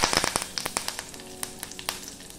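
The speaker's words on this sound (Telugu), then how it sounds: "పోపు దినుసులు కాస్త వేగాక ఇందులోకి 1 ఎండుమిరపకాయ, కొద్దిగా కరివేపాకు వేసుకోవాలి" Tempering spices with a dried red chilli crackling in hot oil: rapid sharp pops and spits over a thin sizzle, close and without voices.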